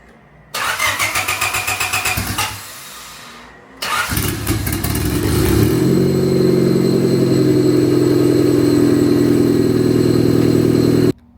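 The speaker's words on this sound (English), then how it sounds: "We're gonna go fire it up again." A lowered turbocharged Honda Civic engine cranks for a couple of seconds and stops, then cranks again, catches and settles into a loud, steady idle close by.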